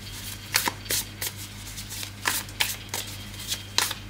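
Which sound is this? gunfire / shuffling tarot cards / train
shuffling tarot cards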